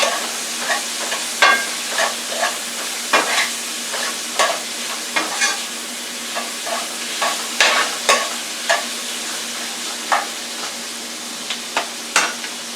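Beef tossed with Lawry's seasoning salt inside a Power Pressure Cooker XL gets stirred with a utensil, giving a regular string of scraping clacks against the pot over a soft, steady sizzle, close and free of talk.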